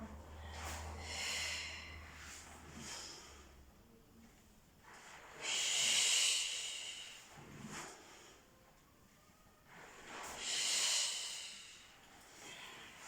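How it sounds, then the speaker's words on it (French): Rhythmic yoga breathing, with slow alternating inhales and exhales in long hissing, airy swells that rise and fall several times. The breaths are close but fairly soft, with no talk over them. "J'alterne bien mes respirations."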